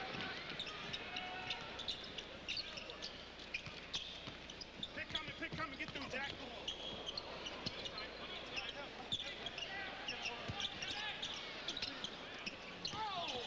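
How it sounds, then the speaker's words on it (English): A basketball bounces repeatedly on a hardwood court amid sharp sneaker squeaks, with players calling out over the echoing arena during an NBA game between the Boston Celtics and New Jersey Nets. "when you can hear all those sneaker squeaks and hear the ball bouncing"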